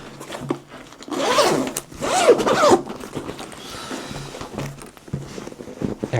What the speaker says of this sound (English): you just zip it round,